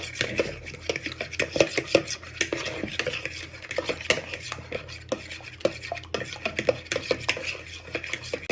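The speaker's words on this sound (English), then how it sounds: "after when you have broke your eggs, you just want to give them a good beat with a fork" Fork beating broken eggs in a bowl, a steady fast clatter of metal tines against the bowl's side, close and continuous with no talking, for party-food onion rings.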